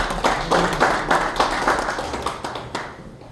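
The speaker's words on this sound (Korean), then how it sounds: "박수로 모시겠습니다." Audience applause from a crowd at a political forum in Gwangju, welcoming a Democratic Party speaker to the stage; steady, fairly close clapping with rhythmic bursts that continues throughout without talk.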